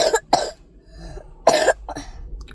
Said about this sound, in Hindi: और खांसी कैसी है? अभी हो रही है?